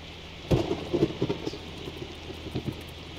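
Rain falls steadily in a Roblox ERLC game thunderstorm, with a short rumble of thunder and a few louder gusty bursts early on, no voices.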